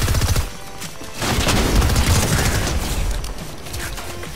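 Dense video-game gunfire from a shotgun and SMGs fills the whole stretch, loud and close, a continuous rattling fusillade with sharp blasts layered over it.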